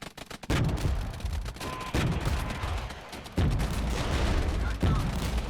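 Troops in the video game Regiments open fire: loud volleys of rifle shots crash out at intervals, with crackling gunfire continuing between the bursts.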